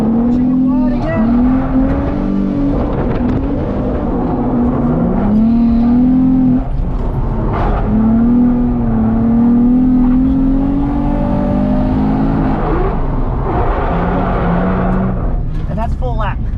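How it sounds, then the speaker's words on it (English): A car drifting on the e-brake, its engine revving and droning loudly as it slides wide through a turn, the pitch rising and falling continuously under steady talk. "pushing it all the way wide again on the e-brake. Sliding into the back, pushing it wide over here."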